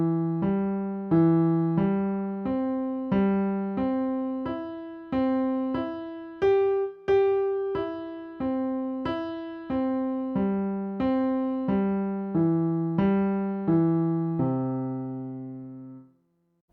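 Piano triads played broken, one note at a time, climbing and falling in a steady even rhythm over about sixteen seconds, each chord pattern repeating at different pitches, clear and close with no voices.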